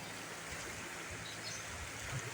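A river rushes steadily after a flood, a continuous broadband roar of flowing water with no pauses and no voices.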